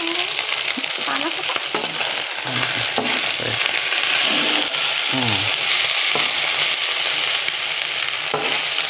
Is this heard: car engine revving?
no